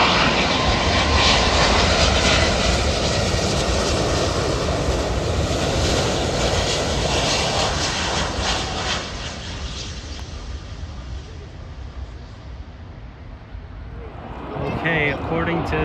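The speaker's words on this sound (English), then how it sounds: "according to people around me, an A380" A British Airways Airbus A380 jet airliner at Miami International Airport roars loudly and steadily overhead, its broad engine rumble holding strong before slowly fading as it passes.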